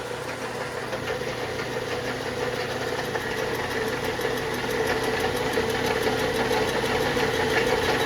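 A milling machine flycutter surfacing a 14-inch billet, turning fast, gives a steady loud mechanical drone with a rapid regular ticking pulse and a high whine above it, getting slightly louder as the cut goes on, with no speech.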